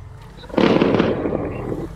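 A sudden burst of crackling firecracker explosions in GTA 5 at New Year starts about a quarter of the way in and keeps rattling densely to the end.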